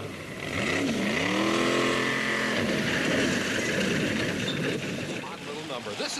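The Chi-Town Hustler four-wheeler climbs a hill, its engine revving loudly upward, briefly backing off the throttle, then settling into a rough steady roar, with an announcer talking over it.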